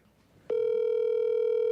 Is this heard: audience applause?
no